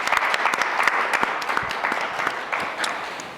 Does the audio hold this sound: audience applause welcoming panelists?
yes